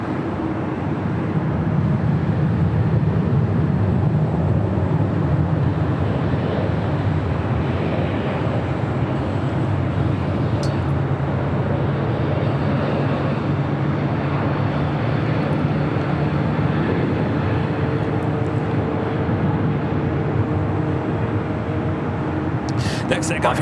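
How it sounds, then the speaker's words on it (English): An Air Canada 787-9 Dreamliner taxiing at LAX gives a steady, continuous jet engine rumble and whine from a moderate distance, unbroken for the whole stretch, with a voice talking over it. "Canada flight 788 heading to Toronto, 787-9 Dreamliner. Starting taxi, we'll head to 25 right."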